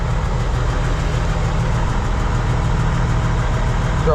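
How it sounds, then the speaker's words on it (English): Farm tractor idling at a pit, its engine chugging with a steady, close, low throb and an even rhythm throughout, nothing else heard over it. "they got this tractor running this morning"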